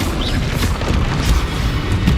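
In Hogwarts Legacy gameplay, a cast Expelliarmus spell hits with a loud, dense magical boom. Rumbling impact noise fills the whole moment, with no talk over it.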